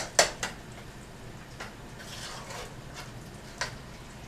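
A spoon stirs tomato paste into spaghetti sauce in a pot, producing a few sharp clinks against the metal rim among soft scraping and quiet rustle, no voices.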